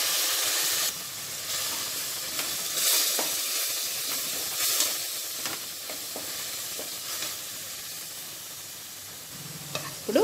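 Water splashed into a hot pan of spiced, coriander-powder masala for chicken curry hisses into a loud, steady, steamy sizzle that crackles on with occasional stirring scrapes, no voices.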